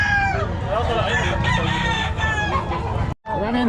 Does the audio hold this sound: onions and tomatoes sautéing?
no